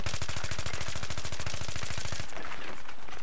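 Rapid automatic gunfire in Battlefield 3, a loud close burst of evenly spaced shots for about two seconds, then cutting off into noisy aftermath.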